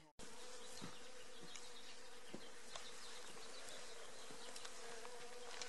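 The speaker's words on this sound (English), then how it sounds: "Got a little bee action going on in this one." Bees buzzing steadily around a blooming desert plant on a hike in Organ Pipe Cactus National Monument, a continuous close insect drone with faint ticks and rustles, no voices.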